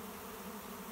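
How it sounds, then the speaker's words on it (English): A swarm of honey bees clustering outside their hive gives off a steady, faint, continuous buzzing drone. "those are my bees from that hive"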